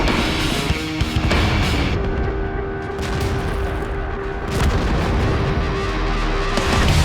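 Tank gunfire in a video game battle replay, heavy booming cannon shots and rumbling engine noise in a dense, continuous wash of battle sound, with several louder blasts standing out.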